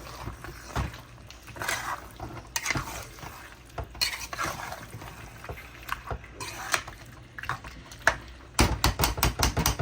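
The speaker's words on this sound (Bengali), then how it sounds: "মাংসটা এখন কষাইতে দিয়ে দিলাম" Chicken stir-fried in spices for a Bengali curry sizzles continuously under repeated scraping strokes of a spatula against the pan, growing into quick rhythmic clatters toward the end, close and fairly loud, with no speech.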